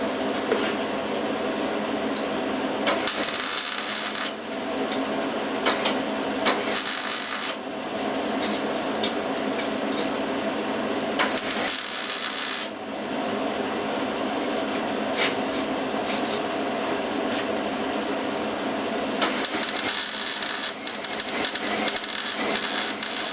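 Acklands Midget/Miller Cricket welder spot welding a T-joint in 22 gauge sheet metal, giving a loud, continuous sizzling crackle that stops and restarts in several long bursts.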